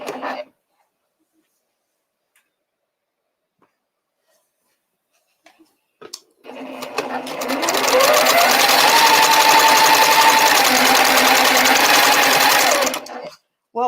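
A sewing machine stitches quilt pieces in a long steady whirring run after a few faint taps, close and loud, then stops abruptly.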